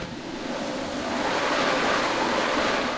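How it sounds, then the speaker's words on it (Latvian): Continuous whooshing from a theatrical wind machine used for live stage sound effects, broad and steady, swelling slightly in the middle, with no talking. "šeit mums ir vēja mašīna"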